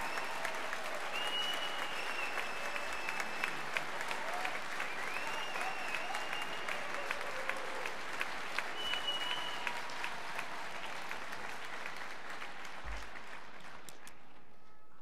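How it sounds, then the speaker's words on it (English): Sustained applause from a commencement crowd honoring Weatherhead graduates, a dense steady wash of many hands clapping at even loudness for the full stretch, tapering slightly at the end. "One good round of applause is certainly in order."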